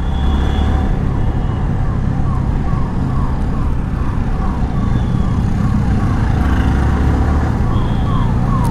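An ambulance siren wails steadily in its rising-and-falling pattern over loud, constant road and traffic rumble, the vehicle seemingly close by throughout.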